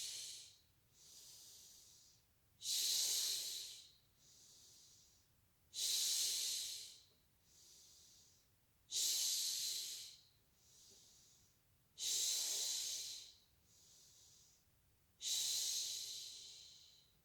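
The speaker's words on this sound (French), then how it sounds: "Donc à l'inspire, je gonfle le ventre, expire, je creuse." Slow, deep breaths in and out during a yoga posture, belly filling and then emptying, in a steady cycle of about five long hissing breaths, close and clear with no talking.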